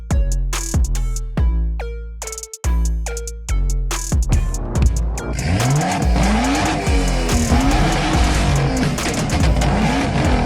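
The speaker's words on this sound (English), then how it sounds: "he just revved the engine to show off his car's power" A car engine revs hard at a street protest, with a burst of sharp, rising revs followed by sustained loud roaring and sweeping pitch changes close by.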